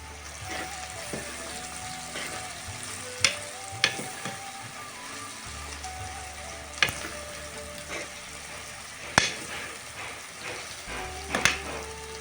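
Bitter gourd pieces fry uncovered in a pan over high heat, a steady close sizzle with occasional sharp pops and stirring clinks, with no talk over it.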